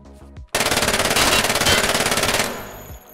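An Uzi Pro pistol in a video game opens up after a brief quiet moment, unleashing a loud rapid-fire automatic burst of tightly spaced shots lasting about two seconds before stopping.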